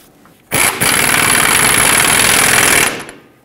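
Impact gun snugging the mounting nuts on a front lower control arm of a 2007-2014 Chevrolet Silverado 2500 HD, one loud sustained rattling burst of about two and a half seconds, close and alone.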